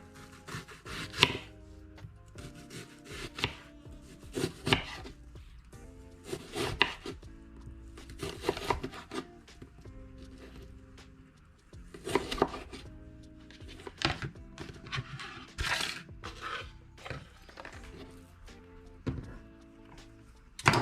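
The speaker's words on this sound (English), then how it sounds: "So we'll just start to chop this onion." Steady knife strokes chop an onion on a wooden board, a run of crisp thunks in loose bursts with short pauses, close and fairly loud throughout, no voices.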